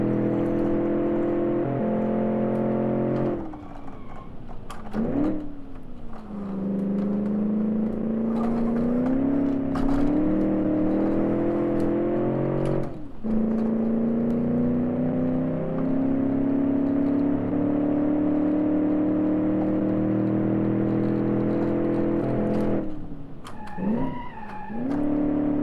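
The Bay12 Motors Minecart, an all-wheel-drive vehicle in the BeamNG.drive video game, gives a steady engine drone that rises and falls in pitch as it accelerates and shifts, running continuously with no talk.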